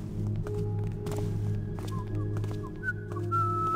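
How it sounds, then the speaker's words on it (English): A guard in the stealth video game Thief whistles a wandering tune, short thin notes drifting in and out over a low ambient hum, with faint footsteps and soft thumps around it. "It must be where I'm hearing this other whistling guard from."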